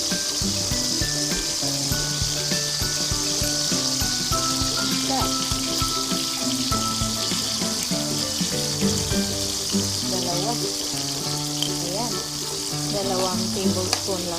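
Bagoong frying with tomatoes in a pan gives a loud, continuous close sizzle with crackling, bubbling pops and occasional stirring, steady throughout with no voice over it.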